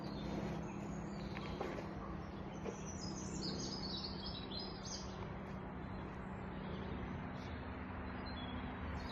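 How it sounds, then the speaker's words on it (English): Birds sing in Bluebell Wood, a chorus of bright chirps and trilling song carrying through the woodland, faint and somewhat distant over a low steady rumble of far-off traffic. "And can you hear the birds? Their song"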